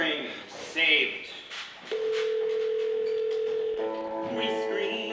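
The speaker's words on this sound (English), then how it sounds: "The phone rings." A telephone sounds a steady electronic tone lasting about two seconds, followed by a higher multi-tone signal, in a staged performance of the musical RENT with people talking before it.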